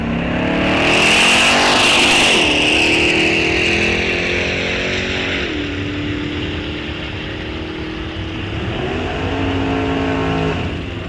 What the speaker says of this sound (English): Don Barry out of St. Paul, driving the 66 Rambler